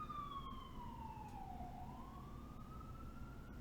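Emergency vehicle sirens wail outside, a falling then rising tone that sweeps past at moderate distance, faint and steady over room background with no talking.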